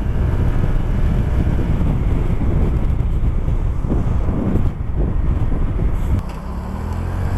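A 2018 Piaggio Vespa 300cc scooter pulls out into city traffic under acceleration, its engine drone buried beneath loud, steady wind buffeting on the microphone that eases off near the end; no one speaks.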